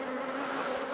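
Honey bees buzz steadily at an opened hive during a frame inspection, a dense, continuous drone with no pauses, close and fairly loud throughout.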